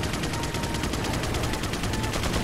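Rapid automatic gunfire in the 2005 video game Resident Evil 4 hammers in a fast, steady stream of evenly spaced shots, loud and dense from start to finish, with no voices over it.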